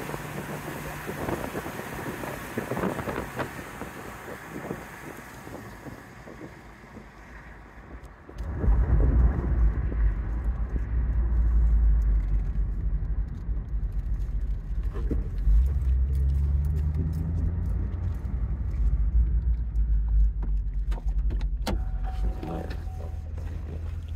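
A 2011 Camaro SS convertible with a six-speed, top down, cruising in sixth gear near 80 mph: a steady low engine drone and road rumble that grows louder partway through, with wind buffeting and faint clicks.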